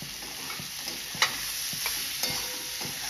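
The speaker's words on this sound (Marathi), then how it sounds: "तीळ आपल्याला भाजून घ्यायचे, सफेद तीळ आहेत हे भाजून घ्यायचे" White sesame seeds roast among stir-fried vegetables in a pan, giving a faint, steady sizzle broken by a few sharp spatula clicks and scrapes close by, with no talking.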